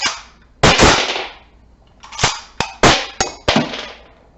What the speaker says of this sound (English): we must pull the charging handle to the rear to eject the round in the chamber